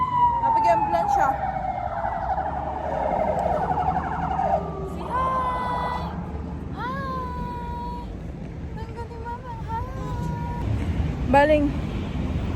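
An ambulance siren wails and sweeps in pitch, rising and falling repeatedly amid street noise in Armenia, with people talking nearby.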